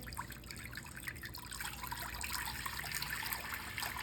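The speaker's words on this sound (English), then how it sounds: "I'm gonna grab some water and I'm gonna pour this water in here." Water trickles and splashes steadily as it is poured into a crock pot, a soft continuous liquid sound heard close up with no voices.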